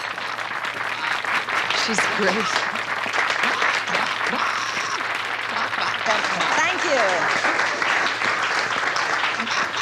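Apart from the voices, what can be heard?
applause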